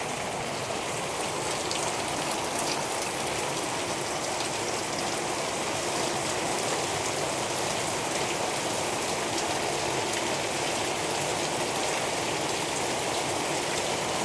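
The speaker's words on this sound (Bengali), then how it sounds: "এতটাই বৃষ্টি নেমেছে সকালবেলায়" Heavy morning rain pours down steadily, a dense, continuous hiss of drops striking surfaces close by, loud and unbroken throughout with no voices.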